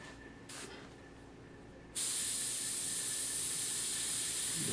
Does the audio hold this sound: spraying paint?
yes